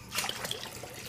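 Water splashes and trickles from a cup poured by a small child, a brief wet, bright burst with a few droplet splashes, close by and without talk.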